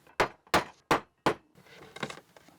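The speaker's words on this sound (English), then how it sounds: "and I glue these dowels in." Four sharp, evenly spaced knocks from glued wooden dowels being tapped into drilled holes in a wooden entry table, close and loud, followed by softer rustling and handling.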